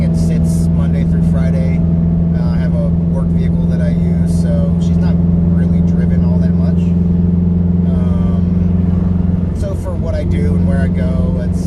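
2015+ Subaru WRX with an FA20DIT engine, Tomei unequal length header and straight-pipe exhaust with quad tips, giving a loud, steady low rumble throughout, with a slight dip near the end.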